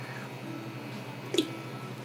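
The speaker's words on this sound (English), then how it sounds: "2 lemons is perfect for my pot here. And I just put this into the water." Two lemons drop into a pot of water with a single soft squishy splash near the end, close by, against a quiet kitchen hum.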